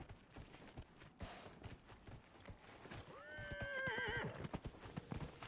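Horse hooves clip-clop at a run in Dragon Age: Inquisition, then a loud, wavering neigh rises over the steady galloping rhythm before the hooves carry on alone.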